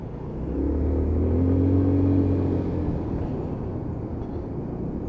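A Lexmoto Titan motorcycle's small engine hums steadily while being ridden on a cold, damp morning in traffic, a low continuous drone that swells briefly and then holds at an even level, with wind rush underneath.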